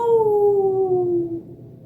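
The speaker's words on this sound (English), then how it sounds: "The wind was howling." A howling wind sound effect for a spooky children's story, a single smooth, loud tone sliding slowly downward for about two seconds and fading at the end, heard alone.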